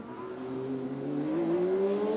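A Formula Student race car drives on the track at the Formula Student UK 2019 competition, its engine droning steadily and rising in pitch as it accelerates, fairly close and alone without talk.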